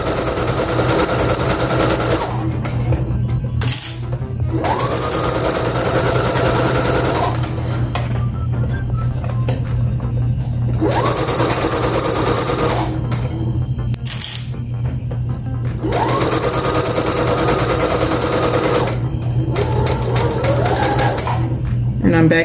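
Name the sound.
sewing machine stitching a ruffle on baby pants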